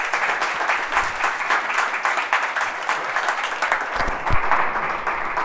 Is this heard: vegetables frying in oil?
no